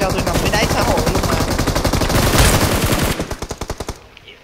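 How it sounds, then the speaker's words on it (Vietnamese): Rapid automatic gunfire in a Vietnamese haunted-castle shooter game, loud and continuous close bursts that slow into spaced single shots before cutting off. "Em bắn gì bắn dữ vậy mấy em."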